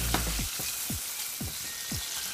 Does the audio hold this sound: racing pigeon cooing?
no